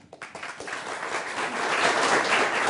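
Applause from a TV studio audience at a Hindi news debate show swells steadily, a dense wash of clapping that grows louder over a few seconds, with no talking over it.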